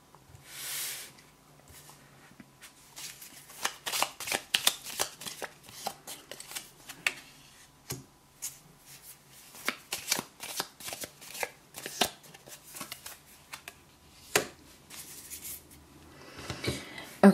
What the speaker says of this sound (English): I'm advised or guided to pull more cards here.